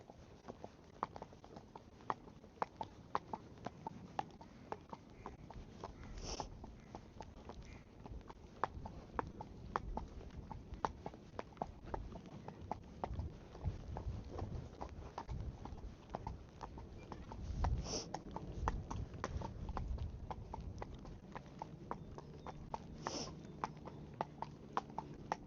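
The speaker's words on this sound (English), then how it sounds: "Girls are bringing the horses in now from your field." Horses' hooves clip-clop steadily on concrete as the horses are led in from the field, a close, irregular walking rhythm throughout with occasional faint snorts.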